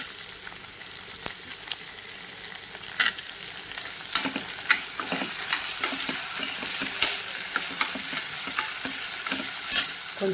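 Ginger and tomatoes for a mutton curry sizzle steadily in a pan while a spoon stirs them, with scraping strokes and small crackles rising over the constant frying hiss and no talk.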